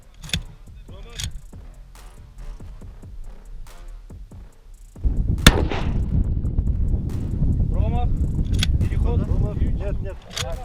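A long-range sniper rifle fires during a Kyrgyz sniper cup match and a bullet strikes a steel gong target. A few sharp shot cracks and clangs ring out, with a louder burst midway, under a Russian-speaking announcer and background crowd noise.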